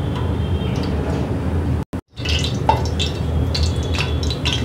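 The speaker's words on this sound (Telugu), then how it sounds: "కాగిన నూనెలో ఒకటి వేసుకున్నామండి, విడిపోలేదు" A paneer kofta frying in hot oil, a close, steady crackling sizzle with small pops and light utensil ticks, briefly cut out near the two-second mark, no voices.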